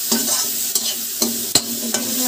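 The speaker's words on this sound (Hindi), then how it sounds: "मसाले को भी भून लेंगे इसमें।" Spices fried in a pan, a steady sizzle punctuated by four or five sharp spatula scrapes at uneven intervals, loud and close with no talking.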